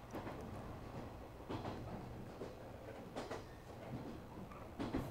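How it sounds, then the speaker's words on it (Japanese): A local train pulls into a station in the Yo-kai Watch 2 game, a low steady rumble with faint rhythmic clicks and soft swells, quiet and continuous. "朝鮮渚行き普通列車が参ります。"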